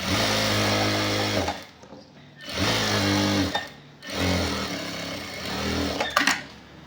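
A sewing machine stitches a shirt collar in three bursts of rapid, buzzing needle action, each separated by a short pause, close and clear with no talking.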